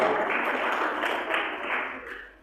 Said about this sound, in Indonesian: Dahsyat, tepuk tangan bagi Tuhan.